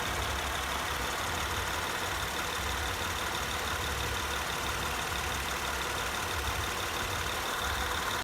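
A car engine with a leaking head gasket runs continuously, a dense, steady mechanical roar close to the microphone with no pauses or talking, cutting off abruptly at the end.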